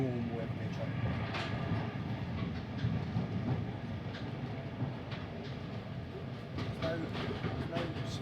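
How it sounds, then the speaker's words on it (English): A passenger carriage hauled by a class 55 diesel locomotive runs along the rails with a constant rumbling roll and faint rhythmic clicks, while someone talks over it from inside the train. "it sounds like a normal train."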